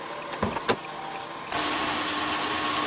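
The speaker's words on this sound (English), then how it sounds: "Automatic driver's side window." On a 2015 Kia Sorento with the 3.3 L V6, a couple of switch clicks precede the driver's side automatic power window motor, which starts abruptly and whirs steadily and closely to the end with no talk.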